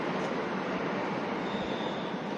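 Train in motion, heard from inside as a steady, loud broadband rumble with a faint high squeal mid-way, and no talking.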